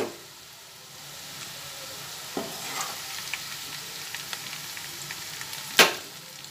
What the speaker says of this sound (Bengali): পেঁয়াজটাকে মোটামুটিভাবে ভালো করে ভেজে নিচ্ছি